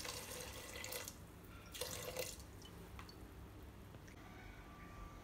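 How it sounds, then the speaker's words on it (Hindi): Water pours from a tap into a pressure cooker holding corn kernels for halwa, a steady wet splashing rush with two louder bursts, close and alone without talk. "अभी इसके अंदर मैं 1 कप जितना पानी ऐड करूँगी।"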